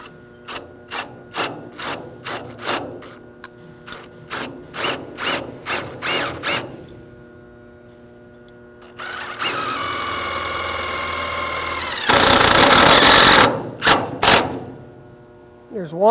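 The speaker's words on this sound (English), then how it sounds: "my drill gun with a 3/8 socket. Again, these are self-tapping screws." A drill gun fitted with a 3/8 socket drives self-tapping screws. Loud rhythmic ratcheting clicks come first, then a sustained whirring drill run rises into a harsh, intense grinding burst before brief clicks return, all close up.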